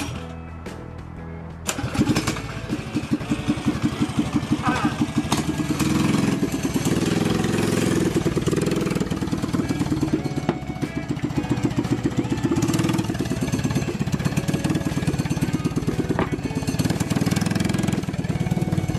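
A Doodlebug mini bike's small engine cranks and then runs steadily after tuning, a loud, continuous putter that keeps going for most of the clip.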